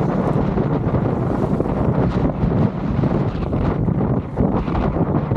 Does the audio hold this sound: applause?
no